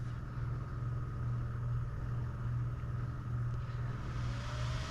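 Cooling fans in a PC built around an AMD Athlon 450 triple-core processor spin up at power-on, a steady low hum and whirr holding at an even, moderate level throughout, with no voices.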